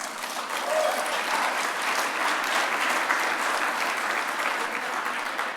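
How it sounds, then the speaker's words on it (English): An audience at a Liberty Forum dinner in New York City claps steadily for several seconds, a dense, even wash of applause with no voices standing out. "Yes, that deserves an applause."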